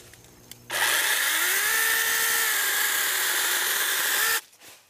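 A battery-powered mini chainsaw cutting branches, a steady high buzzing whine that starts abruptly, holds for about four seconds with a slight pitch drop under load, then cuts off.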